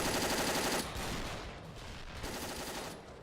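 A moving machine-gun turret in Dino D-Day rattles out rapid, continuous automatic fire, loud and close, easing slightly before a final burst.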